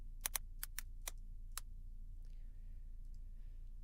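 Several sharp, separate keystroke clicks from a computer keyboard, bunched in a quick irregular burst and then stopping, close and fairly clear over a low steady room hum.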